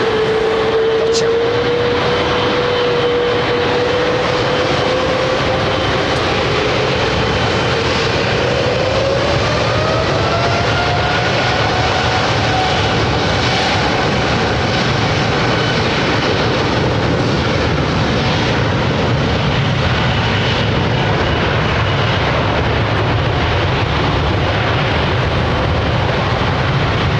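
A Qatar Airways Airbus A380, flight QR3 after a 15-hour non-stop, turns onto final approach for runway 27 left at London Heathrow, its engines a steady broadband roar with a slowly rising whine, sustained and fairly close throughout.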